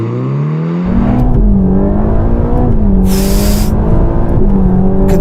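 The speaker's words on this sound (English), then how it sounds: "Right, let's see what this thing can do 0 to 60 in." A Ferrari Roma launches hard from a standstill on a slippery, greasy track, its engine bursting into a loud, sustained roar that climbs in pitch through the revs with a brief shift dip and a tyre-scrabbling hiss, heard close.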